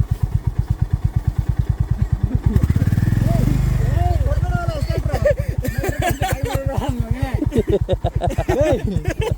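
A motorcycle engine thuds in a steady, loud rhythm close by as the bike is pushed up a slope at Kaginahare near Sakaleshpura, with the note rising as it strains and people talking over it.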